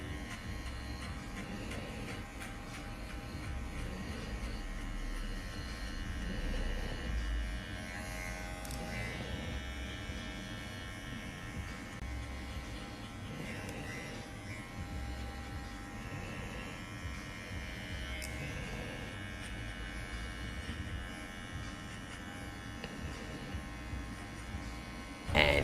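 Kemei 1986 Pro cordless hair clipper cutting hair, a steady close electric buzz with a constant motor whine that holds for the whole stretch, slight swells as the blades move through hair, no talking.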